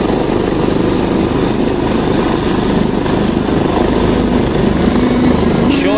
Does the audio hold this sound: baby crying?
no